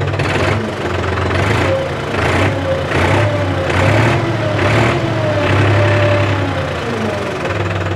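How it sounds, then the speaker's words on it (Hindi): A New Holland 551 tractor engine idles at low RPM, a steady, smooth mid-pitched rumble held close and loud for the whole stretch, with slight rhythmic pulsing and no voices. "आवाज़ ट्रैक्टर की स्मूथनेस ट्रैक्टर की आप लोग चेक कर सकते हैं"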